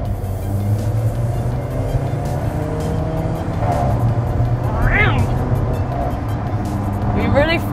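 An Alfa Romeo 4C's engine drones from inside the cabin, with brief rising revs and shifts between gears, under a continuous conversation between people.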